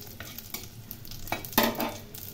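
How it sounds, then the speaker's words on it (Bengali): Cumin seeds and asafoetida frying in hot oil in a pan alongside a bay leaf for a Bengali cauliflower curry tempering; soft crackling sizzle with a few stirring scrapes, close and quiet, no talk. "সাদা জিরে 1 চামচ দিলাম, আর দিলাম হিং। এই ফোড়ন খুব ভালো করে ভেজে নিতে হবে।"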